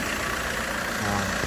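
A SsangYong Korando Sports engine idles steadily in a workshop, a low continuous hum with faint higher whine and no revving, heard alone at moderate level.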